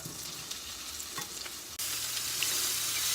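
Diced onion fries in avocado oil in a hot pan, giving a quiet steady sizzle that turns sharply louder and brighter partway through, with soft stirring scrapes and no talking.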